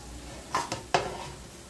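Potatoes frying in a pan for pork adobo, heard as a few quick scraping clatters of a utensil close by over a soft, steady sizzle.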